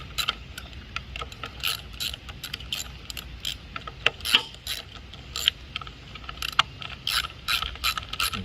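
A wrench ratchets and clicks while loosening four 9/32 bolts on the cover of a push mower left sitting for over three years, quick irregular metallic clicks close by and fairly quiet.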